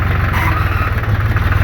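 A tractor engine runs at a steady idle, close and loud, with a fast, even, throbbing low pulse and no voices over it.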